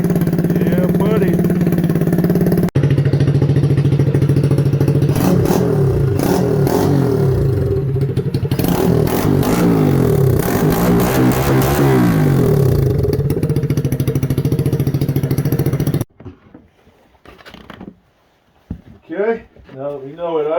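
A Honda Z50R minibike engine idles steadily and close, then revs up in several throttle bursts with mechanical clatter, before cutting out to quieter handling noises and talk near the end.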